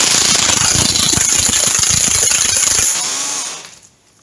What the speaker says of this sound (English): normally the shock of the Mega Blaster is enough to loosen things